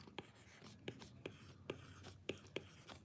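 Pen strokes scratch on paper close to the microphone, a series of short, quiet scribbling sounds and taps spaced irregularly across a few seconds in a hushed room.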